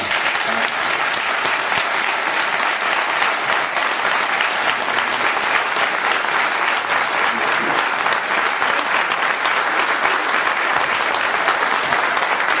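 Sustained applause from a large crowd, dense steady clapping throughout with no pauses, loud and even from start to finish.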